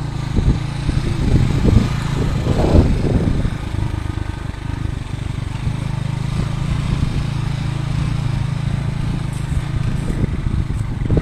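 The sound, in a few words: motorcycle engine in the mountains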